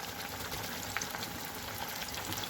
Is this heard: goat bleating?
no